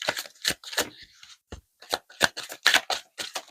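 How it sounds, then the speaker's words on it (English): Slippery playing cards being shuffled, a series of crisp riffling bursts and flicks in quick irregular rhythm, close and fairly quiet, with short silent gaps between them. "Quite nice to shuffle these because they are slippery"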